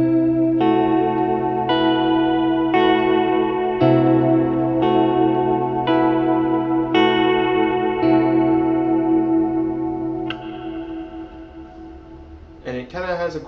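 Guitar fingerpicking in a chordal right-hand pattern alternating between three string sets, with chorus and echo effects: clean repeated plucked chords in a steady rhythm, played alone up close, fading near the end.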